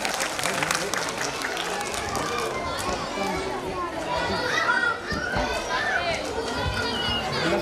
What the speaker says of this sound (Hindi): तालियां इनके लिए होनी चाहिए।